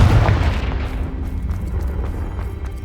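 Confringo blasting spell from Hogwarts Legacy going off: a deep booming explosion with a heavy low-end thump at the start that rolls into a sustained rumbling tail, loud and close, with no voice over it.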